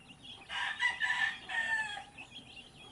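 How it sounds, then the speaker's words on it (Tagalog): A rooster crows in a long drawn-out call, with chickens faintly clucking around it, at moderate distance. "Yung mga manok natin."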